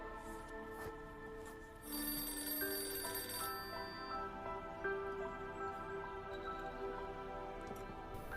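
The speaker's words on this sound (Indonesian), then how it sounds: "Jen yang mendengar suara telepon" A telephone rings in a film scene at a house, its repeated bell tones sounding clearly over a steady background of music, with no one speaking.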